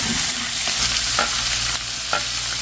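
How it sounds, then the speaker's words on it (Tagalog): A large, freshly caught mud crab with roe sautés in a pan. It crackles and sizzles steadily and close, with stirring scrapes mixed in. No one speaks. "Gisa-gisa muna natin"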